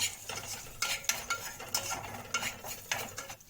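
Garlic is stirred in a pan for Egyptian koshari, with a rhythmic series of close scraping and clinking strokes over a soft sizzle.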